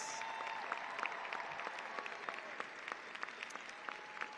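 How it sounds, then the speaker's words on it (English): Applause from a university commencement audience for the graduates being honored, a steady wash of many clapping hands with scattered sharper claps, held at a fairly even level throughout. "Let's give them a round of applause"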